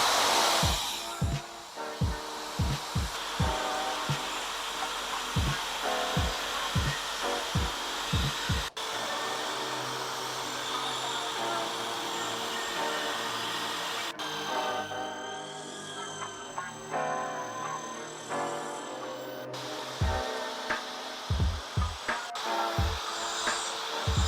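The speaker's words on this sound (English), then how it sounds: "we're cleaning off the buffing process with the polish" A power buffer polishes a scratch out of car paint, a steady whirring drone broken by repeated knocks and pauses as the machine is stopped and restarted nearby.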